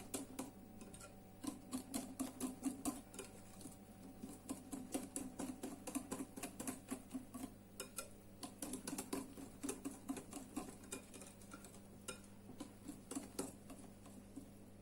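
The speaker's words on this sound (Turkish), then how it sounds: "Bunları ilk olarak bir güzelce çırpacağım." Rapid irregular clicking and tapping of a whisk beating wet chocolate cake batter with chocolate sauce in a bowl, a close, fairly quiet patter that runs throughout with no talk.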